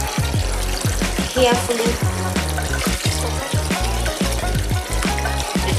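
Raw chicken pieces are washed by hand in a bowl of water, making repeated splashing and sloshing at a close, steady rhythm. A voice speaks briefly over it.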